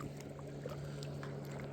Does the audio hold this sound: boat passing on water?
yes